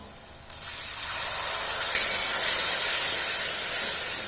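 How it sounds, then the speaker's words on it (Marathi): Water is poured into a pan of spices fried over medium heat. A steady, loud gushing hiss starts abruptly after a brief pause and continues evenly to the end. "आता याच्यामध्ये थोडस आपण पाणी ओतणार आहोत"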